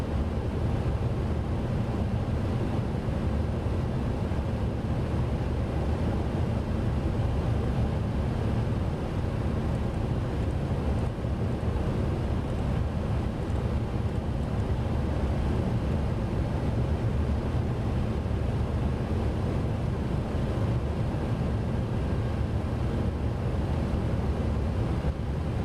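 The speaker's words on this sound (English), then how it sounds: "even the wind noise is quiet on this airplane" Steady, unbroken airflow rumble fills the cockpit of an MD-11 airliner in MSFS 2024, a broad, even hiss and low roar with no changes or talk.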